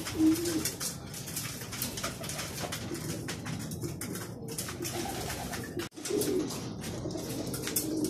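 Racing pigeons cooing nearby after a training flight from Padre Burgos, soft repeated coos over a busy background of rustling and flapping, with one brief drop-out near the end.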